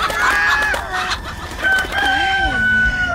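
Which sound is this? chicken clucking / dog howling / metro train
chicken clucking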